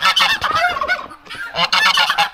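Geese honking loudly and repeatedly at close range around a chicken coop, harsh calls coming in dense overlapping bursts with a brief lull midway.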